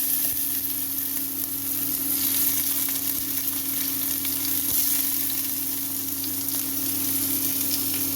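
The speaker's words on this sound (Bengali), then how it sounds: "কড়াতে তেল দিয়েছি তেল গরম হয়ে গেছে এখন আমি সাদা সর্ষে দিয়ে দিলাম এখন আমি পেঁয়াজ দিলাম" White mustard seeds and onion fry in hot oil in a kadai, a dense continuous sizzle heard close and loud, with faint stirring and occasional soft pops underneath.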